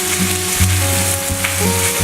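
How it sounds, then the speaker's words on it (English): Breaded fish sizzles loudly in hot olive oil in a frying pan, a dense crackling fizz that runs the whole time, close and alone, with a low steady tone beneath. "You just stick it in the oil."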